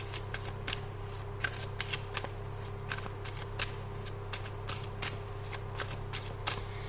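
Tarot cards being shuffled by hand, a steady riffle of soft papery slaps repeating quickly over a low constant hum, close up and quiet, with no voices.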